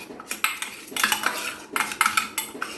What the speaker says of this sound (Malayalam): ശേഷം അത് നന്നായിട്ടൊന്ന് ഇളക്കി യോജിപ്പിക്കാം